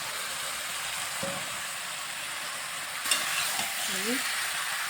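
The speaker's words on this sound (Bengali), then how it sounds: "ভালোভাবে একটু আলু আর ইঁচড়টা একটু টমেটোর সাথে একটু কষিয়ে নিচ্ছি" Boiled potatoes and raw jackfruit cook with tomatoes in a pan, giving a continuous close sizzle with occasional scraping stir sounds and a faint voice in the background.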